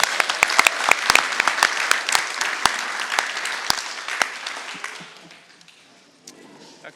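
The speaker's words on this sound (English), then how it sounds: "Let's give them one more round of applause, ladies and gentlemen." A crowd at a board meeting applauds warmly for several seconds with sharp individual claps, then the clapping thins out and fades away.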